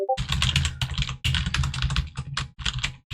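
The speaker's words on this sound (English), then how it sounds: "we're going to type in, let's just type in random things." Rapid keystrokes on a computer keyboard as random text is typed, a dense, close clatter of key presses with a few brief pauses and no talking.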